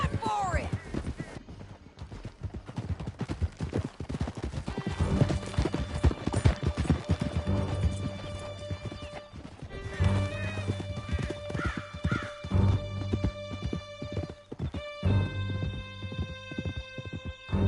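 Several horses gallop hard with fast, loud clip-clopping hooves, and repeated whinnies and neighs ring out over the pounding. Shouts and other voices break in briefly amid the chase.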